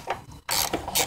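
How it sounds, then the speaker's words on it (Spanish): Short metallic ratcheting clicks as Torx screws on a Chevrolet Astra engine mount are loosened, a few quick bursts close up and fairly quiet. "Hay que aflojar estos tornillos que son tipo Thor."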